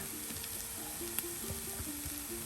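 Mung dal fritters deep frying in hot oil, a steady close sizzle and crackle throughout with faint stirring clinks.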